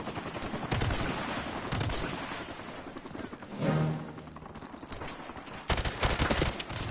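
Call of Duty Modern Warfare Remastered multiplayer gunfire, a busy mix of loud sharp shots and rapid bursts across the whole stretch, with a dense cluster of firing near the end and no talk.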